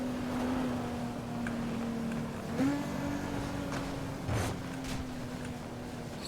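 A car engine roars steadily in the racing game Need for Speed: Most Wanted (2012), holding a sustained drone that dips and rises slightly with shifting pitch.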